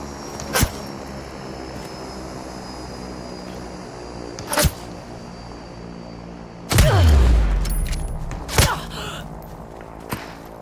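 Shotgun fire in the battle royale game Super People: four sharp, separated blasts spread over several seconds, the third a louder, deeper boom with a lingering rumble.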